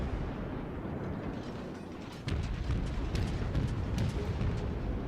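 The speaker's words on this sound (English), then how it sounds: "I'm sitting here firing at this guy with my high explosive shells" Ship guns firing high explosive shells in a naval battle video game, the USS Flint in action: a continuous rumbling bed of heavy booming with a louder surge of blasts partway through, no talk.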